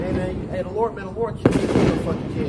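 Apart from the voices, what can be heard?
fireworks going off outside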